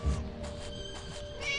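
A cat meows repeatedly inside the video game Scary Teacher 3D, a series of close, fairly loud electronic-sounding cries with a steady game hum underneath.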